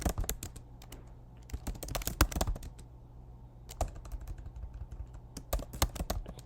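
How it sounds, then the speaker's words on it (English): Rapid typing on a computer keyboard in bursts of quick, close keystrokes with a brief lull midway, over a faint steady hum and no talk. "I will type fast."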